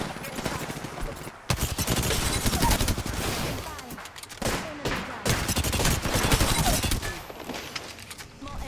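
Volt SMG fire in Apex Legends, loud close bursts of rapid automatic shots, several sustained volleys broken by short gaps, with game sounds and faint voice chatter mixed in.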